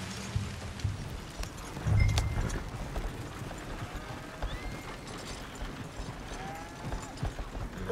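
Horse hooves clip-clopping at a run in Red Dead Redemption 2, with a whinny, a dull thump near the start and steady game ambience throughout.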